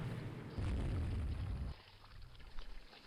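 Torpedo explosions in the naval strategy game Rule the Waves 3, a deep booming rumble that swells suddenly, holds heavily for about a second, then drops away into quieter watery rumbles and scattered small pops.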